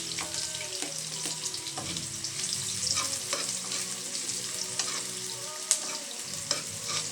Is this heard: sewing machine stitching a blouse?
no